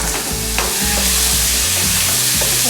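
Chicken breast hits a smoking-hot wok after onions and garlic, giving a loud, dense sizzle broken by repeated scraping and clanking strokes of a stirring utensil against the pan.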